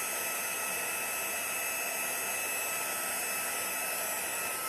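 A heat gun warming up for heat embossing blows a steady, even whooshing hiss with a faint motor whine that never changes for the whole stretch, with no voices over it.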